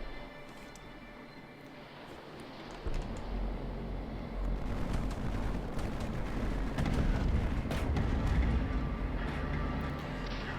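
Bombing explosions in a naval battle video game involving cruisers and torpedoes, starting as a low rumble and swelling after a few seconds into a continuous, dense barrage of booming blasts that stays loud to the end.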